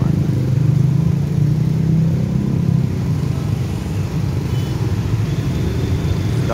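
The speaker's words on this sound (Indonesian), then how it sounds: "pas macet-macetnya nih, lalu lalang kendaraan roda 2, roda 4" Morning rush-hour traffic at the Kramat railway level crossing, with two-wheelers and cars streaming past in a steady, loud engine drone and occasional revving motorcycles nearby.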